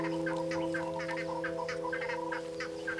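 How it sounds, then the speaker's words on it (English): Crested guinea fowls stirring in forest treetops at dawn in autumn, giving a run of rapid, repeated clucking calls from several birds, moderately distant, over a steady low background hum. "the crested guinea fowls stir in the treetops all around the yellowwood."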